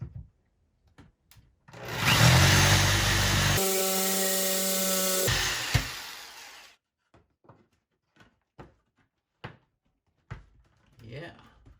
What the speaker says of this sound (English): The jigsaw blade's not cutting straight through, it tends to bow.